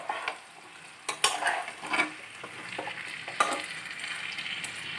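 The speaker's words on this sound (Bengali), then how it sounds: "আমি দিয়ে দিচ্ছি এই ম্যারিনেট করা চিকেনগুলো" Marinated chicken sizzles and fries in a hot pan with onions and spices while a utensil stirs and scrapes it in repeated strokes, close and fairly loud, with no voices.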